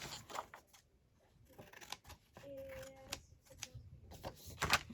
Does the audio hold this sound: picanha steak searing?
no